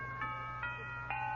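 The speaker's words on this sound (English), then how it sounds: "Well, I must fix those chimes on my next day off." Doorbell chimes used as a sound effect in an old-time radio comedy, a soft sequence of three tonal dings with ringing overtones, fairly faint over a low background hum.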